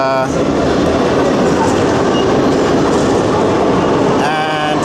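Lisbon underground metro train running with a steady, loud rumble and clatter of wheels on rails throughout, with faint voices and short tonal tones near the start and end.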